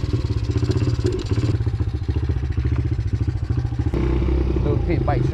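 A Honda CRF pit bike rides on a small dirt pit bike track, its engine buzzing loudly and steadily with a pulsing rhythm, changing in pitch near the end as it revs.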